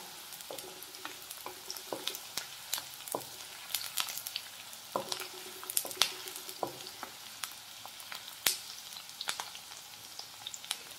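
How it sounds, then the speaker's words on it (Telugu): Onions and green chilies fry in oil for a leafy vegetable curry, a close, steady sizzle broken by frequent sharp stirring clicks and scrapes of a spoon in the pan. "ఇప్పుడు ఆనియన్స్ ఇంకా పచ్చిమిర్చి ఈ ఆయిల్లో మంచిగా ఫ్రై అవ్వాలన్నమాట"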